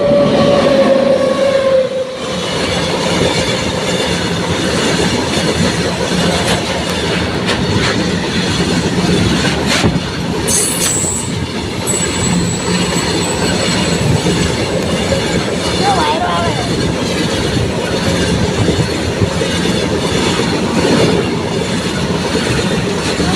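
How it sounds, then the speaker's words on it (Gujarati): A large train rolls past close by on railway tracks in an outdoor rural setting, with a loud steady roar and rumble, wheel clatter and a brief high squeal partway through, sustained for the whole stretch. "સરસ જો ટ્રેન આવેરી છે"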